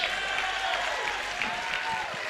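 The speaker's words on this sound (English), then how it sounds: "Clap your hands and shout like you're going to live passionately." A church crowd claps and cheers loudly and continuously during a motivational sermon, a dense wash of applause with voices shouting through it.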